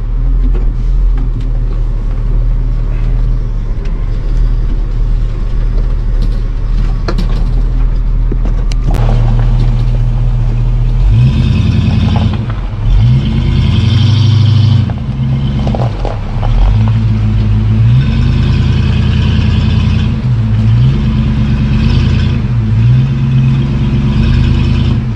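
Semi trucks move around a truck stop, first a steady low idling drone, then a louder engine passing close by with rising and falling revs and rumbling pulses over the second half, with no voices.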